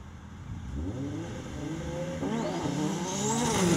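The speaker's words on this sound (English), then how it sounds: "smashing through the gears, putting all that 650 horsepower down" A 650 horsepower drift car in a British Drift Championship Pro-Am battle roars up through the gears, its engine note climbing loud and close as a second car's engine rises behind it.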